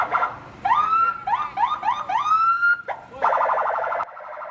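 A close, loud electronic ambulance siren whoops upward in a rapid series of rising wails, then switches to a fast, warbling yelp.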